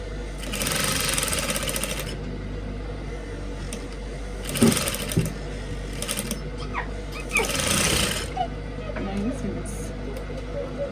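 A domestic sewing machine runs a straight stitch in three bursts of steady mechanical whirring and needle clatter, loud and close, separated by pauses with faint handling noise.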